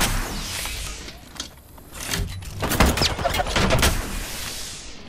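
Gunfire in the video game Apex Legends, several bursts of shots crackling through busy in-game action, loudest around the middle and end, with no talking.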